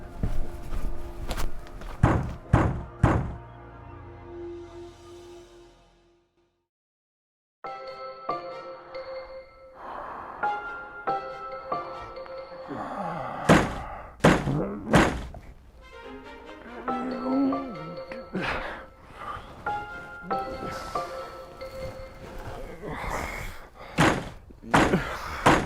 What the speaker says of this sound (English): Wake Duncan with thy knocking.